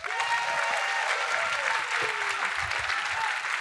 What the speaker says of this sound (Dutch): Geef een groot applaus aan Roxane van Ypres.